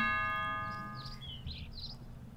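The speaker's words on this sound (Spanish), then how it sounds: "Venga, voy a llamar al timbre a ver si nos abren." A doorbell chime rings at a toy house: several bright, clear tones at moderate volume over a faint low hum, with no talking.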